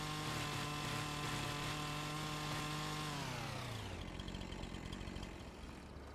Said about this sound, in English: chainsaw away